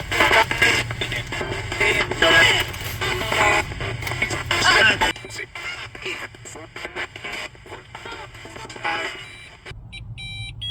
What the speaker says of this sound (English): we have a spirit box going